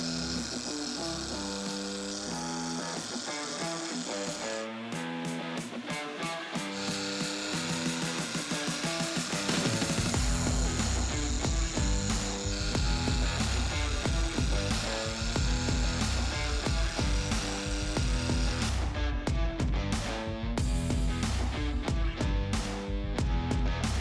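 A power polisher buffs the paint on a 1967 Jeepster Convertible with a loud, continuous motorized whine that shifts in pitch partway through, with no talking.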